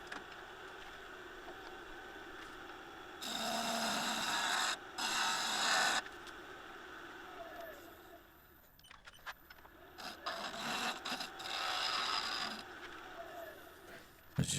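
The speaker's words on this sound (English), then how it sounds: "giving it a nice little shave on the wing of my bowl gouge" A bowl gouge shaves and scrapes a historic blackwood twig pot spinning on a lathe, with bursts of gritty hissing cuts separated by short pauses and a faint steady hum.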